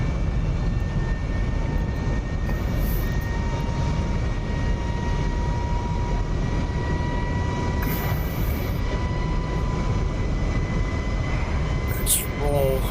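Fighter jet engine in the DCS flight simulator during an F-22 versus Su-27 dogfight, a steady loud roar and rumble held throughout with faint tonal whine, a voice talking briefly over it.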